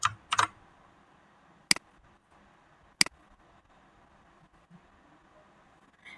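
Sharp clicks of Shift and Delete being pressed on a computer keyboard while deleting a folder, a cluster of quick taps at the start followed by two isolated presses, close and clear against a quiet background.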